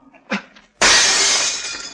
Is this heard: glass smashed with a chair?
yes